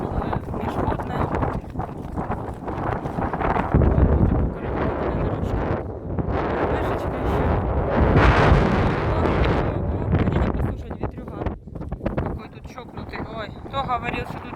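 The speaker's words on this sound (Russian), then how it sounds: "Кто говорил, что тут не дует ветра?" Strong wind buffets the microphone at a cold Crimean seaside in Novofedorovka, a loud continuous roar with gusty surges, while someone talks over it.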